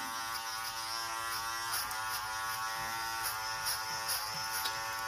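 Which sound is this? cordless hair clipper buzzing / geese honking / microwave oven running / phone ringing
cordless hair clipper buzzing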